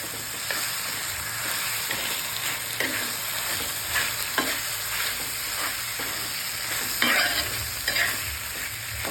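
Roasted, peeled eggplant sautéing for Maharashtrian bharit in a pan, a steady close sizzle with scraping stir strokes recurring every second or so throughout.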